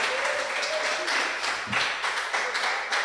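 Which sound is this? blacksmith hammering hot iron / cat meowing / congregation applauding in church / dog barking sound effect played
congregation applauding in church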